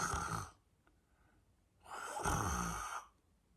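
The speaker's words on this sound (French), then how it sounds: "C'est alors qu'on entend un léger ronflement." Light snoring or heavy sighing breaths, two slow airy exhalations separated by a quiet pause, close and soft with no talking.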